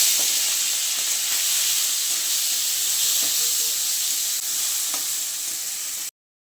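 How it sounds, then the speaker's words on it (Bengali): Prawns fry in hot oil in a pan, a loud, steady sizzle and hiss that keeps up without a break for about six seconds before cutting off abruptly. "চিংড়ি মাছটা ভেজে নেব।"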